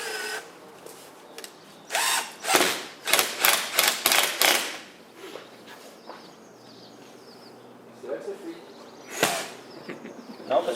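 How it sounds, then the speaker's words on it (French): A power drill drives screws into underfloor heating panels, several short whirring bursts in quick succession followed by one later burst, close and fairly loud, with a voice speaking in the gaps. "Et on vient visser."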